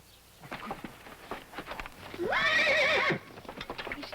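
Horse giving one loud whinny lasting under a second amid irregular hoof clip-clops on hard ground, close and clear.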